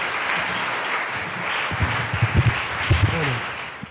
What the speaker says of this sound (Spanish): Así que lo recibimos al padre Guillermo Marcó con un fuerte aplauso